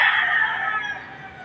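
A rooster crowing loudly and close by from a backyard flock of chickens during morning yard cleaning, a single sustained crow that trails off at the end, with no voices.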